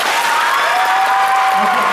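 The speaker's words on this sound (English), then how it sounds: "If it was me, clap now." A crowd at a Boston book event breaks into loud clapping and screaming, a brief dense burst of hands and high voices that stays intense for about two seconds.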